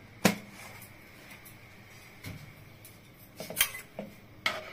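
Spoon clinking against a metal pot while ghee is added to vegetable dal, a few sharp scattered taps and clinks, fairly faint, with no talk.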